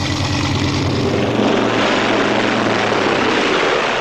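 Piston-engined B-17 bomber propellers drone in a loud, steady, continuous roar with a low throbbing hum throughout, no voices present.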